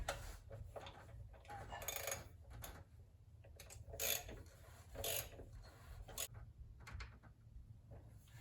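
Hand ratchet turning the crankshaft pulley on a Geo Tracker engine, giving faint, quiet clicks and mechanical ticks over a low steady hum, no voices.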